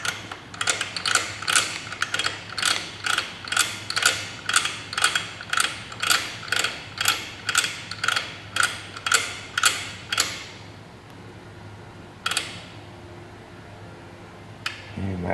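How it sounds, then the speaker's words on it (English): A Lightech motorcycle chain adjuster being turned gives a steady series of about fifteen crisp ratcheting clicks at an even rhythm, close and clear, then stops, with one lone click near the end. "And now we will rotate this Lightech chain adjuster."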